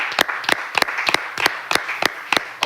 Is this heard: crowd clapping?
yes